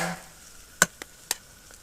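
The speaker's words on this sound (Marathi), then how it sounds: "फोडणीला जिरं, मोहरी," Cumin and mustard seeds hit hot tempering oil for a sprouted-bean usal, producing a few sharp, isolated pops and crackles close by over a quiet background.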